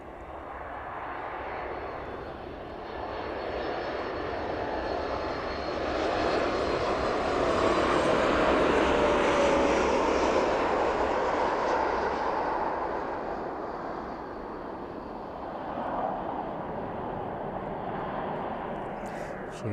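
An airliner lands at East Midlands Airport in the evening, a broad, steady jet roar that swells to a peak partway through and then eases off. Heard from fairly close, with no talk over it.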